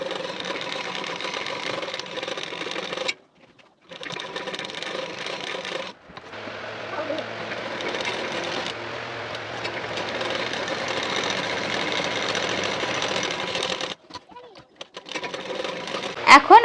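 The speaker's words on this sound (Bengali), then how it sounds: "এখন এর উপর থেকে একটা চাপ সেলাই দিয়ে নেব" A sewing machine runs in bursts, stitching nylon fabric onto a boat-neck blouse, a steady mechanical whir that stops and restarts several times while someone speaks over it at close range.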